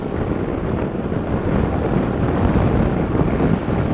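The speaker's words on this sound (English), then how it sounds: "The only annoying thing is really the buffeting of the winds" Wind buffeting a rider on a 2017 BMW F800GSA motorcycle at speed: a continuous, loud, low rumbling roar with constant turbulent fluctuation and no talk.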